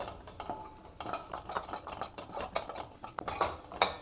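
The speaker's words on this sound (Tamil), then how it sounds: "அதிலே ஒரு 1/4 கப் பாசிப்பருப்பு போட்டுக்கிறேன். அதை வறுத்து எடுத்துக்கலாம்." Moong dal dry-roasting for payasam is stirred in a pan, giving a close, busy run of scraping and rattling strokes as the lentils shift against the metal, fairly quiet and continuous with no talking.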